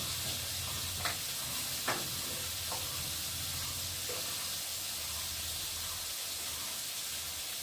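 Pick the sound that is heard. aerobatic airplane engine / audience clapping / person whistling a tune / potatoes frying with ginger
potatoes frying with ginger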